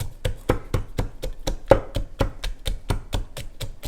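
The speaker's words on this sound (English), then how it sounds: "you're gonna ground everything together in the vessel" Chili, garlic and green papaya pounded in a mortar for som tam, a brisk, regular series of about sixteen sharp thuds at roughly four per second, close and loud.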